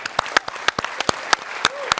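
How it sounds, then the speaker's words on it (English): An audience at a Bitcoin conference claps in a short burst of applause, sharp individual claps standing out over a thin crowd layer. "can I get a round of applause for that?"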